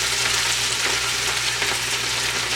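Collard greens frying in a pot give a dense, continuous sizzle and crackle, close and loud, holding steady throughout without any talking.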